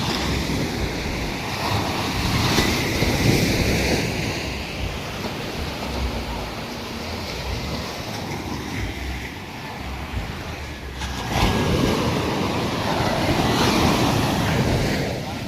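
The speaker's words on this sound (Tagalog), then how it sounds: "Malaking alon." Big ocean waves crash and roll continuously, making a broad, steady surf roar mixed with gusts of wind buffeting the microphone. The roar swells briefly toward the end.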